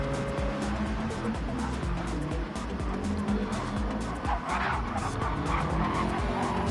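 A four-wheel-drive Subaru WRX race car in a racing video game at Spa-Francorchamps roars loudly and continuously, its tires squealing and skidding through corners while other engines snarl close by.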